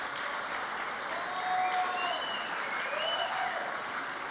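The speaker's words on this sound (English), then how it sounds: "give them a nice round of applause" Steady applause from a crowd, sustained clapping at a consistent level with faint voices underneath.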